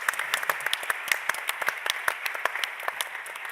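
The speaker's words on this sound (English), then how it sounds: "So let's first give an applause." Audience applause closing a panel discussion on supply security and sustainability in trade, a moderate, fairly faint patter of scattered hand claps with sharper individual claps standing out, steady across the few seconds with no talk.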